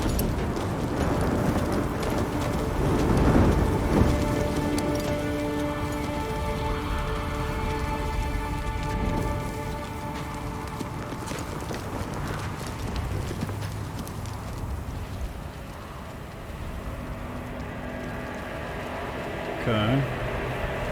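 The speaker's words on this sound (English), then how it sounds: "I'm guessing this is our barbarian riding on the horse." Horse hooves galloping in a Diablo 4 in-game intro cinematic, a steady clip-clop beneath rain, rumbling score and a speaking voice, with a brief horse whinny near the end.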